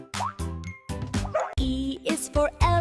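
A dog barks and yips in short, lively bursts within a cheerful children's alphabet song, the barks repeated in quick succession over bouncy music.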